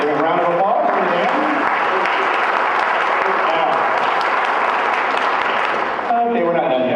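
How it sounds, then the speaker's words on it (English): Loud crowd applause fills the room at a community ball, rising between stretches of amplified talk at the start and end, with the middle section a continuous wash of clapping. "Give a round of applause for them."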